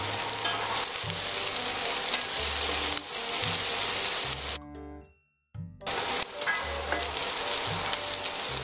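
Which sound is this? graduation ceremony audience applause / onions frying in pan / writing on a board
onions frying in pan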